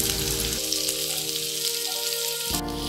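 Chopped onion and green chili sizzle and fry in a wok over steady hissing oil, with a brief stir near the start and end, close and continuous with no voices.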